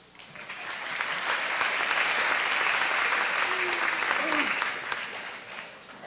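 Audience applause fills a high school honors ceremony, a dense sustained clapping from a large crowd that swells quickly, holds for several seconds and then fades out.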